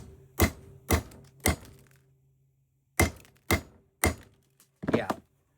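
Sharp snipping cuts through copper, removed by hand with flying bits, three quick cuts then a pause and four more, close and crisp over a faint hum.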